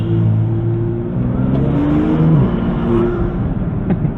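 A BMW M2 M car with a seven-speed dual-clutch gearbox revs its engine nearby, a loud, continuous growl that rises and falls in pitch across the whole moment with no voices.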